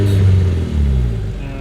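A Classic Mini engine revs up and then settles back toward idle, a loud, close mid-pitched drone that swells and eases over under two seconds.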